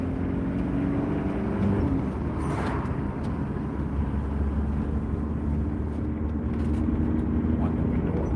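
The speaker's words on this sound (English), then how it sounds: "Less traffic noise is probably going to be a little bit more pleasant for you guys." Road traffic heard from inside a parked or slow car through an open window, a steady low rumble of passing vehicles with a louder pass midway, no talk.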